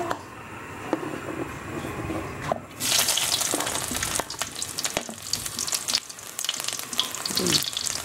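Ginger sautéing in a pan for Bicol-style chicken dinuguan, a loud continuous sizzle close by with scraping stirs and sharp crackles that swell after the first few seconds.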